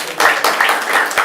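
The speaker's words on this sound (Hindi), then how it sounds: "ताली बजा दो सारे" A group claps together on request at a gathering in Vrindavan, a short burst of several quick, close claps with a brief spoken word mixed in.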